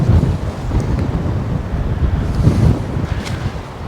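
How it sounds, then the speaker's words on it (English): Strong gusts of wind buffet the microphone outdoors beside a gasser-style Nova hot rod, a steady loud rumbling roar that swells and eases in waves, with no talking. "It's crazy windy."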